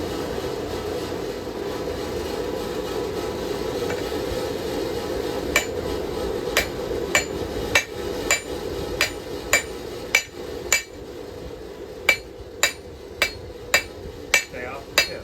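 A hand hammer strikes a steel knife blade being forged, starting after a quiet stretch and then landing in a steady run of about fifteen sharp, ringing blows over a low background hum.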